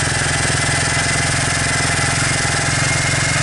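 A 2001 Suzuki Quadrunner 250 4x4 ATV engine idles while warming up with a choke-lever and carburetor issue, a loud, close, steady rapid chugging pulse with no pauses.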